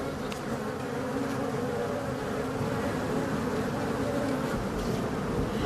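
A swarm of bees buzzes continuously, a dense droning hum that stays close and steady, with occasional louder passes of individual insects.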